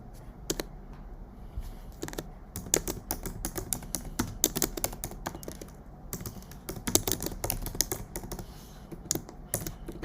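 Typing on a computer keyboard, a quick irregular run of crisp key clicks with brief pauses, close and fairly quiet, with no talking.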